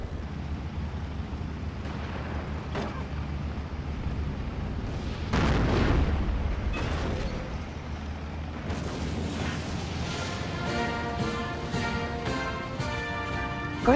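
Battle in the war strategy game Steel Division 2: scattered gunshots and deep explosive booms, with a heavier blast midway, then a dense rattle of rapid fire building toward the end, no talk.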